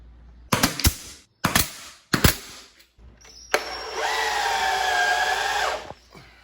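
A power drill drives wood screws into a wooden frame for a standing vegetable garden, first in three short bursts, then in one sustained whine lasting about two and a half seconds, close and fairly loud with no talk.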